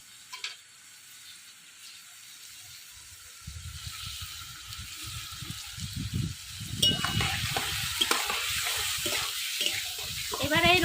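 Pumpkin pieces fry in oil with salt and turmeric in a pan for a rural Bengali fish curry, starting quiet, then a watery sizzle builds and grows louder, with a voice speaking over it.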